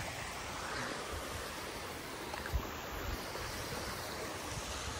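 A mountain stream flows nearby in a continuous, even wash of water noise, fairly faint and unbroken throughout, with no one speaking.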